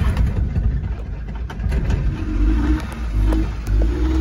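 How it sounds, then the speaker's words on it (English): A mini truck engine running after being started with the clutch in, a low steady rumble with slight rises in revs, close and continuous with no talk. "I'm gonna put the clutch in and fire it up."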